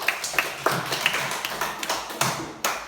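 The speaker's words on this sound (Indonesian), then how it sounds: "tepuk tangan untuk Niki" Scattered claps ring out in a classroom for a student named Niki, a few distinct, sharp hand claps spaced irregularly rather than a full round of applause, fairly close and moderately quiet.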